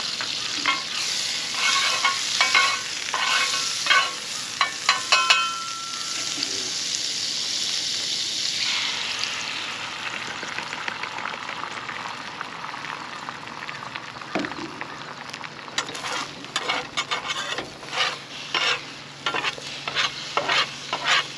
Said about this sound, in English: on the skillet before I put the eggs on.